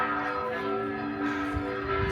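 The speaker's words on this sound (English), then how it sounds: "the bell tower is chiming" A church bell tower in Matera, Italy, chimes with a steady, sustained ringing tone that sounds alone at moderate loudness, its strokes blending into a continuous resonant hum.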